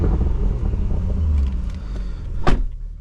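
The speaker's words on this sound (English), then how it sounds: "Sports exhaust, so we'll do a little comparison." With the sports exhaust switched on, a 2021 Porsche Macan GTS engine growls through a loud rumbling rev, ending in a sharp crack near the end, heard close and alone.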